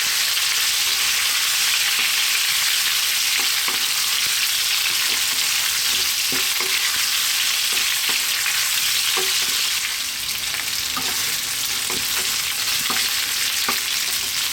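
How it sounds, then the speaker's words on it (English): Potatoes frying on high heat for a plant-based recipe, tossed around in a pan; a loud, dense, continuous sizzle with intermittent scraping and stirring knocks, close and alone. "we're going to throw them around in this pan"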